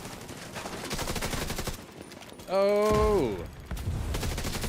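A deployed turret and guns fire in steady, loud bursts during a Division 2 firefight, joined by a brief electronic whine and an excited shout.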